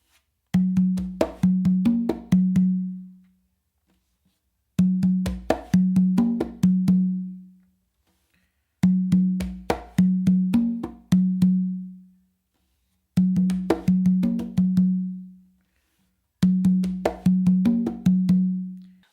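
Bossa nova pattern played by hand on congas and tumba, five repeated phrases of crisp slaps and resonant open tones separated by short pauses, close and clear with no talking.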